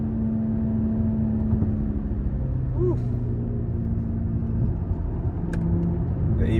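BMW G30 540i with 530 horsepower coasting downhill into a braking zone on a mountain road, a steady low engine and road rumble heard from inside the car, constant and moderately loud throughout.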